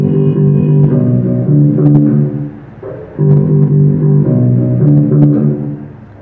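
Bass guitar plays a reggae chord progression lesson line, sustained low notes changing in steady phrases, close and clear with a brief drop in level midway, no talking.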